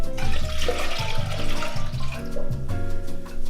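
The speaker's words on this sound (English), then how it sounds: "So let's add a bit of water." Water poured from a tap into a cooking pot with vegetable stock and champagne for poaching eggs, a steady rushing flow running close and loud for several seconds.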